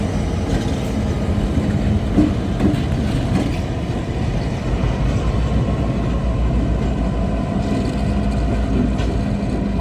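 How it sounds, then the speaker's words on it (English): Two GP38-2W General Motors EMD diesel locomotives pass on a Canadian National mainline at Coteau, Quebec, their engines producing a loud, steady, low rumble that holds throughout without talk. "Here we see two GP38-2W locomotives built by General Motors Electro-motive division."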